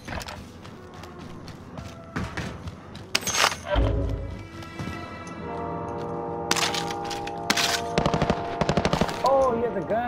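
Rapid video game gunfire rattles in several bursts amid other game effects, cracks and clattering, fairly close and loud, with people talking over the action.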